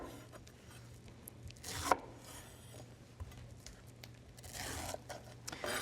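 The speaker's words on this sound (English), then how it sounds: "Just going to chop it up so the blender likes it, like that" A knife chopping fresh pineapple on a cutting board in a kitchen, several quick soft cuts with a few sharper crunches, close and quiet with no talking.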